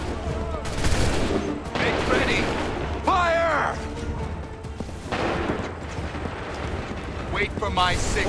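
Musket volleys crackle and boom in Assassin's Creed 3 amid a chaotic battlefield din, with loud bursts of gunfire repeating over several seconds and shouted voices mixed in.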